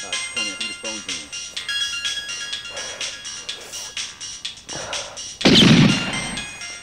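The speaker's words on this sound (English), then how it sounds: "Tony, I think the phone's ringing." A phone's electronic ringtone plays repeatedly with a short melodic pattern, followed by a louder burst of noise and voices.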